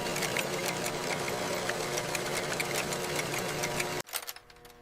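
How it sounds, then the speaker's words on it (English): Modern rapier looms weave denim with indigo warp in a factory, making a loud, dense mechanical clatter with fast repeating beats. It runs steadily, then cuts off sharply near the end, leaving a fainter rattle behind. "Modern rapier looms rapidly interweave weft threads through the indigo warp."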